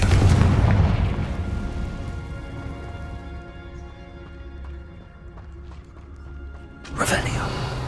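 Confringo blasting curse exploding in the video game Hogwarts Legacy: a loud booming blast opening with a decaying rumble and tonal hum, then another sharp burst near the end, with game sounds underneath.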